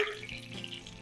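Water drains from a cooking pot in a kitchen during empanada making, a steady close pouring and splashing rush that runs throughout without talk.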